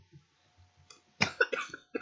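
One person coughs harshly a few times in quick succession, close and clear, after a short stretch of quiet with faint low sounds.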